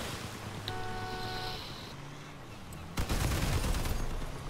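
Gunfire in the vehicle combat game Crossout: a sharp burst of shots breaks out, then a dense rattling fusillade continues over steady engine rumble, fairly loud and close.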